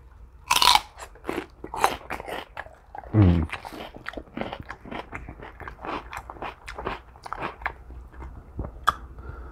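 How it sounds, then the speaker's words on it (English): Crunchy chewing on celery sticks eaten alongside spicy wing sauces, with a sharp bite near the start and then a run of loud, close, irregular crunches and munching, no talking. "I'm going to give you my opinion while I munch on some veggies."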